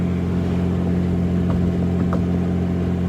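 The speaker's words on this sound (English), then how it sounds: "my first time driving this car in the street" A homemade Z-Kart car drives along a street, its engine giving a steady, loud low hum and whir with road noise throughout, no voices.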